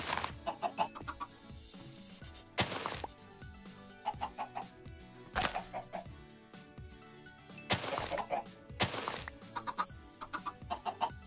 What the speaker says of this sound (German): So, das sind jetzt 6 Hühnchen.